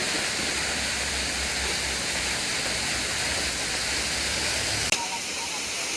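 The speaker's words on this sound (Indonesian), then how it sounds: "Wow, itu air terjun kelewat nih." Steady, loud rush of a waterfall, a broad continuous roar of falling water close by that cuts off abruptly near the end.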